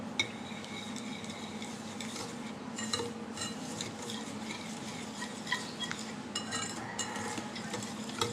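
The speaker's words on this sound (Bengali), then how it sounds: "ডিম আর চিনিটা একটু ফেটিয়ে নিচ্ছি" Egg and sugar, with a pinch of salt, are whisked briskly in a bowl, a steady close-up clatter of utensil against the bowl with sharper clinks scattered throughout and no talking.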